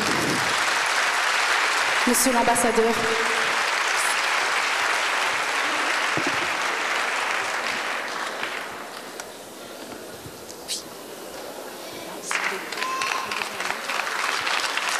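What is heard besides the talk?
applause for the ambassador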